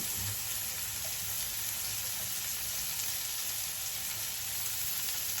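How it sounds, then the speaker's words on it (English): Spring onions sizzle steadily in a hot pan as they cook, a dense, even hiss at moderate level with no voice over it. "So I'm going to add the onion."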